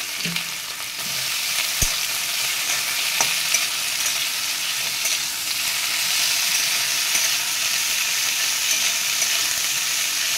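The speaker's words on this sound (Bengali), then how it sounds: "করলাগুলো একটু ভালো করে ভেজে নেব" Pieces of bitter gourd (karela) fry in hot oil in a pan, giving a steady, close, even sizzle with a couple of brief clinks early on and no voices.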